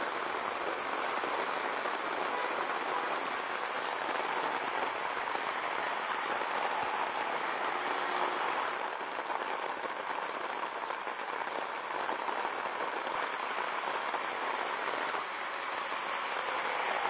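Heavy downpour on a waterlogged road in the Vikaspuri area of Delhi makes a steady, dense hiss for the whole stretch, with a faint rumble of passing traffic beneath and no voices.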